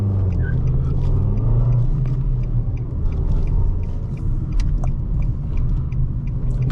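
A 2020 Nissan Versa S with a 1.6-litre engine and manual gearbox drives along with a steady low engine and road rumble from inside the cabin, continuous and fairly loud, with faint rattles on top.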